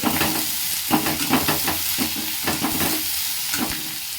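Paneer and capsicum fry in a pan for chilli paneer, a close steady sizzle with repeated scraping stirs of a spatula at a regular rhythm, no voices.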